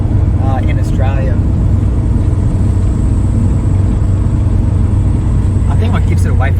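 Subaru Impreza 22B STi with blue gold wheels driving through the Australian countryside, a steady low engine and road drone heard from inside the car throughout, with people talking faintly over it.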